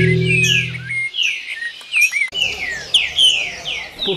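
A wild sabiá thrush sings a run of varied, liquid phrases and chirps, close and continuous, with another low sound briefly underneath at the start.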